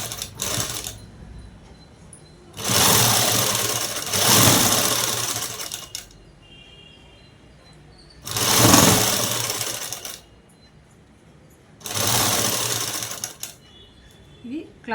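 A sewing machine top-stitches a dress collar in three loud, steady runs of a few seconds each, separated by quieter pauses.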